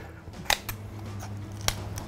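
Shears cut along the spine of a raw chicken to remove the backbone, two sharp snipping crunches about a second apart over a quiet background.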